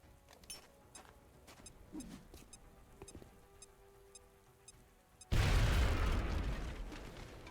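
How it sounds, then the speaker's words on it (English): A grenade detonates in the video game XCOM: Enemy Unknown, a sudden loud blast with a long roaring, crackling decay after several seconds of quiet clicks and small game sounds. "Now toss your grenade at the enemy in front of you"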